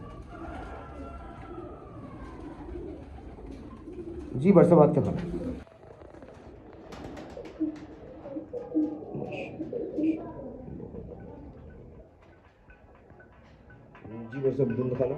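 Pigeons coo in a breeder's loft, soft repeated calls sitting under steady conversation between men, with a louder burst of activity midway.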